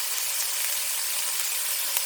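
Salmon kabobs sizzle steadily in a large pan on a stove top, a continuous bright hiss of frying with no talk over it.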